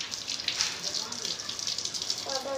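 Water gushes and splashes steadily while a dog is bathed without shampoo, a continuous bright pouring sound at moderate level with no talk.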